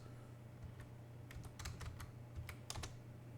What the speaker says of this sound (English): So if you type which